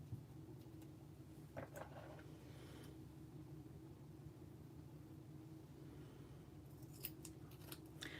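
Sharp snips of scissors cutting, a few quick clusters near the start and end, over a steady low hum.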